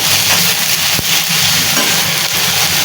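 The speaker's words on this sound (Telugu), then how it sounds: "ఇది కూడా కాసేపు ఆనియన్స్తో పాటు ఫ్రై అయిన తర్వాత అప్పుడు మనం చికెన్ వేసేస్తున్నాం" Chicken and onions sizzle in a hot pan for a masala curry, a loud, steady frying hiss with one sharp clack of a utensil against the pan.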